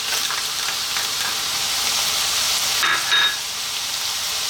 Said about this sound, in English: Right now, we're going to add in some onions.